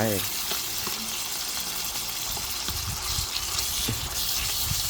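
Pork sizzles and spits steadily in hot oil with garlic in a stir-fry, a loud continuous frying hiss with occasional stirring clatter throughout.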